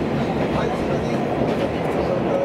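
Local train running on the rails of the Aizu line, heard from inside a carriage: a steady low rumble and rolling rail noise throughout, with a faint announcement voice over it.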